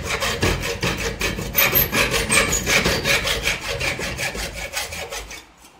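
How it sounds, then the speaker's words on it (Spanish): A hand saw cuts through aluminium tube held flush against a vise. Steady, rhythmic back-and-forth rasping strokes sound close and loud with no talk, then stop abruptly at the end. "vamos a cortar justo a ras de la prensa con una sierra"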